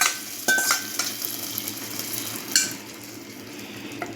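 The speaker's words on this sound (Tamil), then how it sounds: "தாளிச்சுக்கலாம். வெந்தயம் ஒரு 10 போட்டு" About ten fenugreek seeds crackle in hot tempering oil for a brinjal tamarind curry. Low, steady sizzling is punctuated by a few metallic clinks of a spoon against the pan.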